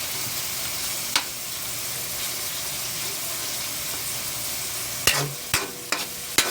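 Meat sizzles and sautés in a pan for a Filipino mung bean stew, giving a continuous frying hiss, broken near the end by a few sharp scrapes and clanks of stirring.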